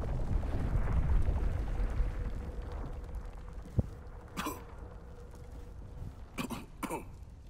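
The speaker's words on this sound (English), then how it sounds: "Did he cough because it went straight to his face?" Cough from a character in the Suicide Squad video game, two or three short sharp bursts later in the clip over a low game rumble and ambient noise.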